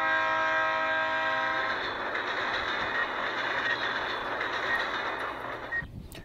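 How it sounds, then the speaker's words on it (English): A phone alert tone with a train-horn-like chord sounds for a couple of seconds, then trails into a low, steady rumble. "That was actually my phone going off, not a train"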